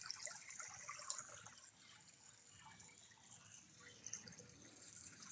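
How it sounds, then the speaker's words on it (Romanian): Spring water trickles and drips at Izvorul lui Eminescu, a public spring; a faint, continuous small stream with a few brighter drips, heard close without talk. "Camarazi, izvorul lui Eminescu aici, la 5 Midiu."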